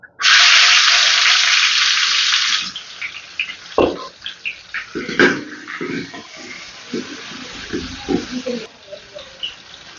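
Hot oil hisses loudly as food hits the pan while cooking a potato milk curry, then the sizzle continues more quietly with scattered pops and clatter of stirring.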